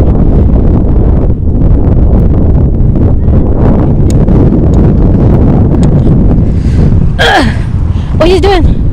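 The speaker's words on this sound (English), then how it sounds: "Ooh, windy." Loud, continuous wind buffets the microphone with heavy low roaring noise beside a road with trucks and cars passing in Dunfermline, and near the end a voice gasps and exclaims over it.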